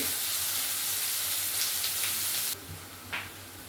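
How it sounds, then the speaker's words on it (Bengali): Chopped onions fry in a pan of oil with whole spices such as cinnamon, mace and bay leaf, making a soft, continuous hiss that drops slightly partway through. "পেঁয়াজটা ভেজে নেবো।"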